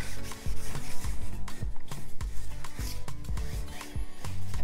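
Wire brush scrubbing rust off the metal bed of a miter saw, a close, loud, rough scratching in quick uneven back-and-forth strokes, continuous and heard alone.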